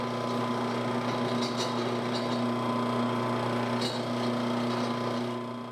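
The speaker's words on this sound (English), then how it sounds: "Of course, both sides of the crossmember were drilled." Drill steadily boring through a steel crossmember on a Jeep Cherokee XJ, with cutting oil on the work, giving a continuous droning whine with faint scraping and chatter throughout, no voices.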